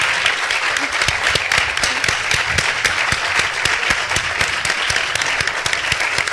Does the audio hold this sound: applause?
yes